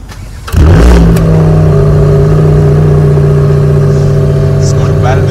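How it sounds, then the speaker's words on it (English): A Hyundai i20N engine fires up with a sudden loud burst from its exhaust, then holds a strong, steady buzzing drone from close by. "now we are gonna see the exhaust note for the i20N"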